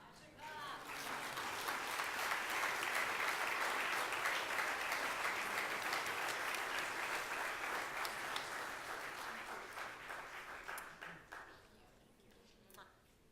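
Audience applause at a synagogue community gathering swells quickly and holds steady as a dense, sustained wash of clapping for about ten seconds, then thins and fades out near the end.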